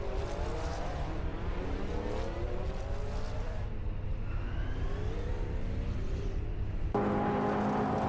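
Race car engines in a video game race whine and rev in rising, overlapping pitch sweeps as several cars pass, loud and continuous with no voices.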